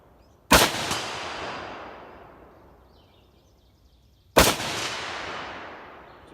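Two loud, sharp shots from a DSA SA58 rifle, each with a long echoing decay, spaced a few seconds apart.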